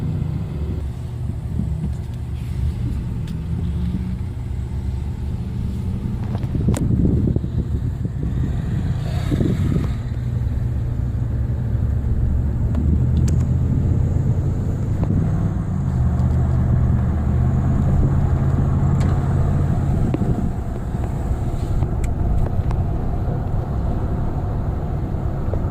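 A 2010 Ford F-150 pickup with an instrument-cluster fault driving on the road, heard from inside the cab: a loud, steady low engine and road rumble with a few brief clicks and knocks along the way, no talking.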